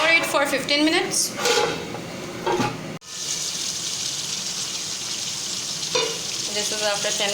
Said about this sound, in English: This is after 10 minutes. I'm gonna stir it.